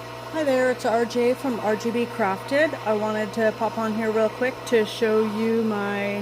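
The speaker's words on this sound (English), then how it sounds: "You can hear her clutch motor right now." The clutch motor of a Singer 291U1 industrial sewing machine runs with a steady low hum under someone talking throughout.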